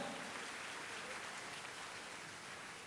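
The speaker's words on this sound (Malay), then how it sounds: "Beri tepukan kepada beliau." Audience applause for a speaker at a university talk in Malaysia, a faint, steady wash of many hands clapping that holds evenly throughout.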